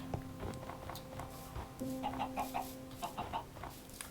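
Chicken clucking in the Minecraft video game, several short clucks in an irregular rhythm over faint background game sounds, with no voices.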